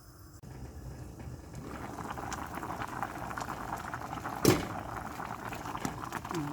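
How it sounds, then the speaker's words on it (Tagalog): Chayote cooks in a covered pot at a steady, quiet boil, bubbling and simmering continuously with a brief clink of the lid partway through. "Takpan natin, hayaan natin maluto yung sayote."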